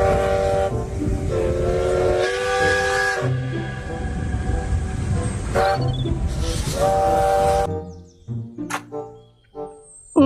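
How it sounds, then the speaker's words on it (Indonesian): A Thomas toy train rolls along with a steady mechanical rumble and bright tonal sounds like a whistle or melody, loud and continuous for about eight seconds, then stops and leaves a few short clicks and knocks. "kereta Thomas"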